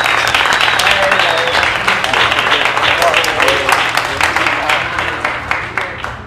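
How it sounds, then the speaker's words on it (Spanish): Loud, close audience applause at a live talk event, dense rapid clapping with voices and some cheering mixed in, gradually tapering off toward the end. "un aplauso para él"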